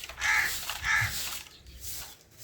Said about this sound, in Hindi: ये कौवा क्यों शोर कर रहा है?